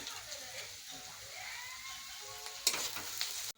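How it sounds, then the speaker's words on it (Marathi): Onion and garlic frying in a pan give a steady, soft sizzle throughout, faint and close, with a brief clatter near the end. "आता आपण लसूण त्यामध्ये घालूया आणि लसूण पण भाजून घेऊया"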